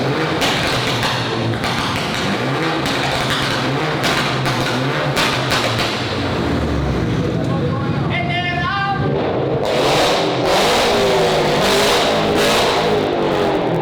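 Car engines rev at a busy car meet inside a garage, including a BMW M550i, a loud sustained roar that echoes off the walls, with a sharp rising rev burst midway and crowd chatter underneath.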